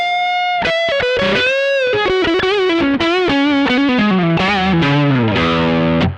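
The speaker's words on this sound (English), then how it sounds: "Pretty glorious lead sound." A singing single-coil neck-pickup electric guitar lead driven through a Mosky Mini Screamer overdrive, playing a loud, continuous melodic phrase with bends and vibrato that descends and then cuts off sharply at the end.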